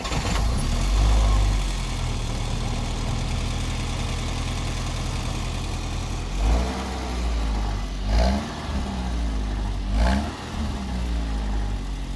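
A car engine, recently fitted with exhaust work meant to quieten it, cranks and catches, then settles into a steady idle broken by three short revs, all close by.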